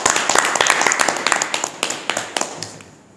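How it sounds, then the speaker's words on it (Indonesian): A small audience at a scout troop podcast session claps for a guest, with distinct hand claps that thin out and fade into scattered final claps. "Tepuk tangan untuk kakak."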